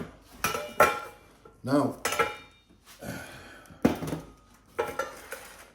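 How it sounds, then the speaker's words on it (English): Plates, pans and cutlery clatter in a home kitchen as ribeye steak and eggs are plated, several loud irregular clanks and scrapes close by, with brief talk in between. "Sorry about the clattering."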